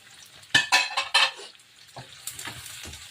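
Chili tipped into a hot stainless frying pan with squid and half-cooked onion, then stirred: a few bright scraping, sizzling bursts near the start, followed by softer clinks and stirring, no talk.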